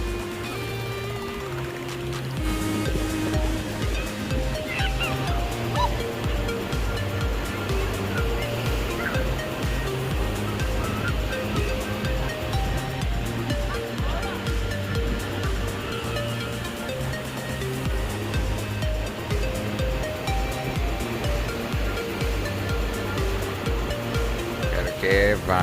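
Ocean surf rolls in continuously at Praia Perequê beach in Brazil, a loud, steady wash of breaking waves with no talking.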